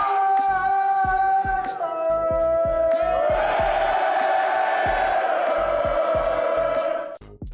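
A crowd of Raiders fans roars their loud, chanted team call in unison, with rhythmic stomps or claps beneath and a long echoing cheer building toward the end.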